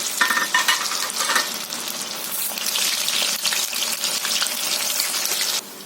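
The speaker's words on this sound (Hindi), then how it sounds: "तो इस तरह के बड़े जब बन जाएं तो इन्हें हम कर लेंगे फ्राई" Sabudana vadas deep-fry in hot oil with a dense, bubbling sizzle that swells and crackles steadily, close up, before cutting off abruptly near the end.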